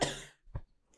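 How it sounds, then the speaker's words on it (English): A single close, loud cough is followed by a softer second cough or throat clearing, then a faint breath. "I'm going to cough."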